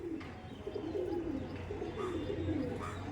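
Several Andhra pigeons coo steadily in a loft, low overlapping calls repeating close by over a constant background murmur.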